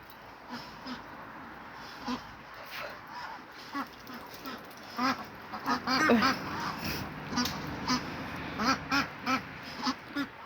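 Ducks quack repeatedly in short, rhythmic bursts, fairly close, with a low background hum and occasional rustling.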